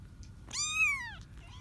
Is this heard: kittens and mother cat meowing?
yes